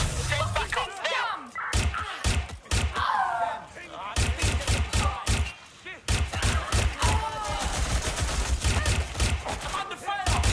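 Gunfire in the open-world game Watch Dogs: Legion, loud sharp shots cracking in rapid irregular volleys and bursts, close by, with shouting voices in between.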